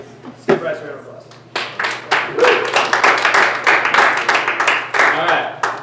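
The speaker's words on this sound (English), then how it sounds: "Let's give Bryce a round of applause." Audience applause and scattered clapping from a classroom crowd, rising from quieter patches into a dense, sustained burst of claps that continues steadily to the end.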